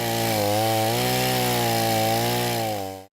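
A chainsaw cuts tree branches during a large outdoor cleanup, its engine holding a loud, steady whine with slight pitch dips as it bites, then cutting off abruptly at the end.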